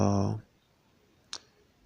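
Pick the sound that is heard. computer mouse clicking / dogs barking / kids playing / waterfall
computer mouse clicking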